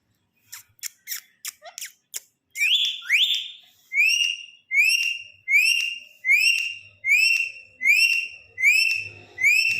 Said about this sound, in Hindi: इतनी सीटियाँ, इतनी सीटियाँ